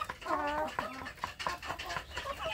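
Indonesian village chickens cluck and chatter in short, overlapping calls, fairly close, with a few sharper squawks mixed in.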